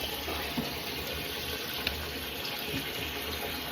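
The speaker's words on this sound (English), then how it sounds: "Let's run that hot tap" Hot water running from a kitchen tap into the sink for washing up, a steady close gush with a few small splashes, continuous and moderately loud, with no talking.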